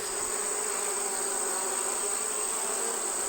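Bees buzzing steadily around the hives in an apiary yard, a dense continuous hum of many insects with no pauses and nobody speaking.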